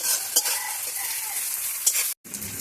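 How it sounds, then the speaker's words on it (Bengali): Chopped onions and green chillies fry in a hot pan with a constant bright sizzle, punctuated by a couple of scraping stirs, before a brief silent gap near the end. "তো পেঁয়াজ কুচি লঙ্কা সবকিছু লাল লাল করে ভাজা হয়ে গেছে"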